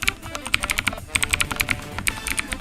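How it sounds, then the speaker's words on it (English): Rapid typing on a computer keyboard, bursts of close, crisp clicks in uneven rhythm with a brief pause near the middle, heard alone without talking. "so you start typing"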